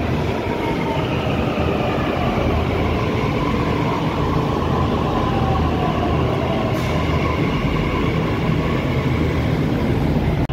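A Delhi Metro train rumbles through with a steady, loud roar of wheels and motors that holds for the full span, joined by faint rail squeal and a distant station hum.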